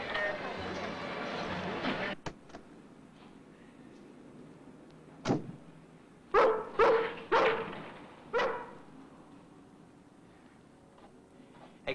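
A dog barks several times in a short cluster midway through, close and fairly loud, after an opening stretch of voices and a door-like thump, then quiet room tone.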